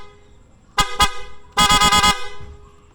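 Horn on a Honda CBR650R motorcycle, fitted with an aftermarket PIAA horn, sounds in two short honks followed by a longer rapid burst of about five quick pulses, loud and close with no talk.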